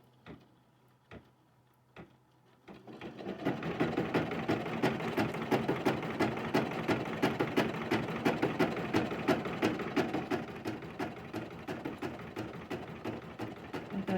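A sewing machine stitches steadily for about eleven seconds while making a pen holder, its rapid mechanical clatter loud and close, after a few faint clicks at the start.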